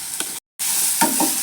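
Cut capsicum and carrot strips stir-frying in a pan, soft short sizzles and scraping stirs in brief bursts, broken by a moment of silence.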